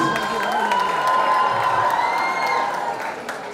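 A crowd at a film promotion event with actors on stage claps and cheers loudly and steadily, with whoops and shouts rising over sustained applause throughout.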